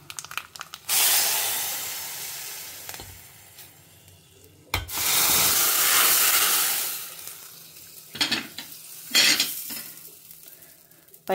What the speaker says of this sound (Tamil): கடுகு, ஜீரகம், கருவேப்பிலை பொரியட்டும்.